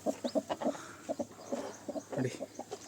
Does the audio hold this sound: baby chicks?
yes